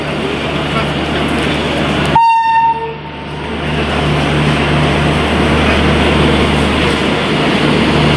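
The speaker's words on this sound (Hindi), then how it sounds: "हम सफ़र राजगीर न्यू दिल्ली हम सफ़र एक्सप्रेस जो कि हमारे पीछे है जस्ट हैज़ अराइव्ड" The Humsafar Express passenger train from Rajgir to New Delhi arrives at a station with a loud, continuous rumble, and a short horn blast sounds partway through.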